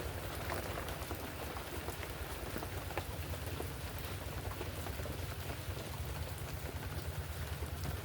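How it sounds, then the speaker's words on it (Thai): Steady rain falls on a rural dike, a dense, constant hiss of drops on surfaces with a low rumble beneath, unbroken and fairly soft throughout. "ตอนนี้ฝนตกกลับขึ้นมาใหม่"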